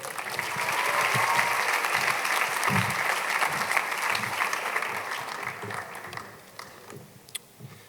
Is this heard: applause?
yes